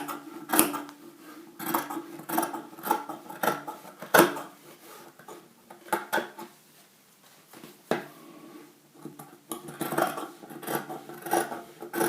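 Scissors snipping through peplum blouse fabric for an off-shoulder padded top, a series of crisp rustling cuts and fabric handling noises, close and moderately loud, with short pauses between bursts.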